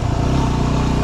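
A motorcycle rides along a steep mountain dirt road at Elephant Skin Road and Smith Mountain Road, its steady mid-pitched engine drone running loud and close for about a second.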